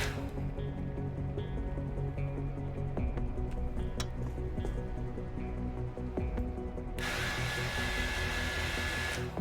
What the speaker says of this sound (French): Pourquoi il y a un sèche-cheveux?